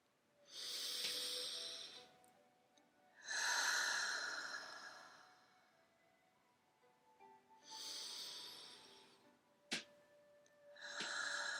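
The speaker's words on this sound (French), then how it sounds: "Fermez les yeux et prenez 3 grandes respirations." Three slow, deep breaths taken close up during a relaxation exercise, each a long airy inhale-exhale swell with quiet pauses between, no talk.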